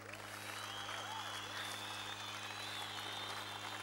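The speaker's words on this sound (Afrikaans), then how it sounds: "gee die Here nog aan 'n klap." Audience applause at an evening church meeting, a steady, faint wash of clapping that lasts the whole stretch, with a constant low hum beneath and a voice faintly audible.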